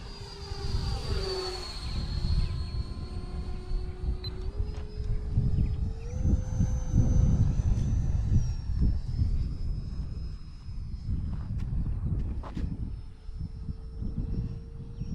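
A model F-86 jet flies overhead on a very windy day, its steady engine whine shifting pitch as it passes, with heavy wind rumble throughout.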